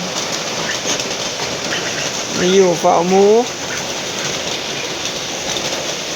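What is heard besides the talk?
heavy rain at night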